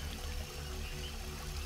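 A rainforest waterfall rushes in a steady, dense wash of falling water, continuous and even throughout, with no voices.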